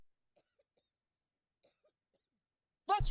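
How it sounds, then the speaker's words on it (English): A person coughs sharply once near the end, clearing something caught in the throat, after near silence broken by a few faint small sounds. "I was coughing. Someone got caught in my throat."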